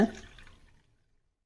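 Water being drained off soaked lentils for punugulu batter, a short splashing pour that fades quickly, heard alone at close range.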